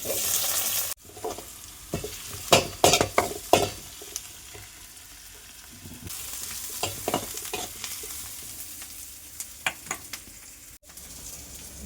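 Onion and green chilli frying in oil with fenugreek seeds, for a fish curry: a low steady sizzle with repeated sharp clatters of a spoon stirring against the pan, louder in bursts early on and quieter toward the end.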